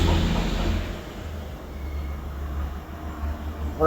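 Freight cars clatter along a railway line in a long train, giving a steady, close rolling rumble with a rhythmic wheel-on-rail clatter that holds at an even loudness throughout.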